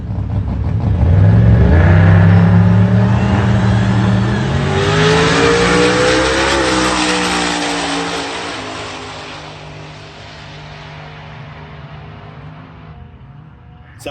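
A Holden Maloo drag car's engine roars loudly as it accelerates, rising in pitch across a sustained run, then gradually fading as the car pulls away into the distance.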